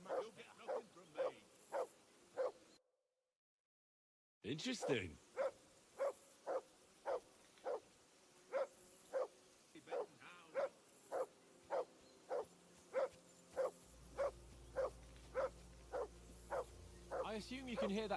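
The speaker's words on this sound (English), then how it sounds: "I assume you can hear that damn dog of yours barking." A dog barks in a medieval village in Kingdom Come Deliverance 2, sharp evenly spaced yaps repeating steadily at mid distance after a brief dropout, while a voice speaks briefly.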